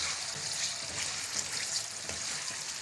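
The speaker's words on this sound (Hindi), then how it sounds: "सबसे पहले हम अरवी को फ्राई करेंगे।" Taro root (arvi) sizzles steadily in hot oil in a pan, a continuous close frying hiss with faint crackles throughout.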